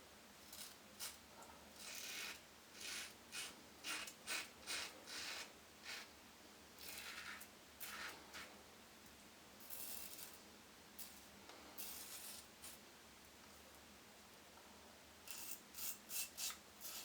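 A Rockwell safety razor scrapes through lather on a first shaving pass, giving repeated short raspy strokes in bursts with brief pauses between them, close and fairly quiet, with no talking.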